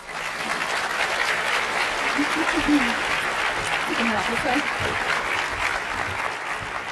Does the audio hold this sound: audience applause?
yes